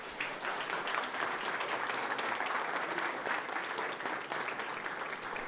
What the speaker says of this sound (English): let's give a round of applause to my staff also